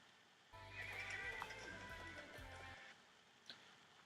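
A white horse whinnies in a long, shrill neigh in the Metal Gear Solid V: The Phantom Pain trailer, with faint hoof clops beneath it, heard quietly and alone.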